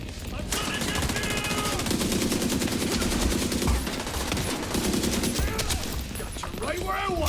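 Gunfire in The Division 2 shooter game, dense sustained bursts of automatic shots and rapid fusillades, loud and close, continuing almost without pause with a few sharper effects near the end.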